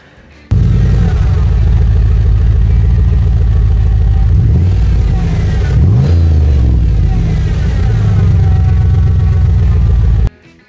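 Chevy Impala SS with an LS4 V8 revs hard, a loud, close, deep engine roar that rises and falls through several throttle blips and then cuts off abruptly.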